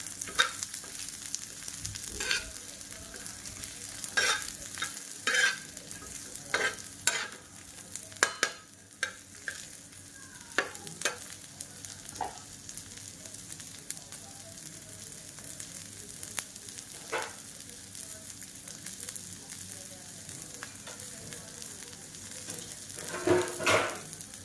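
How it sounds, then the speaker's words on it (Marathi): Chopped onions frying and browning in a pan for misal pav, a steady close sizzle with scattered sharp clinks and scrapes of stirring against the pan, with no talking. "कांदा पण छान ब्राऊन होऊ देते मी"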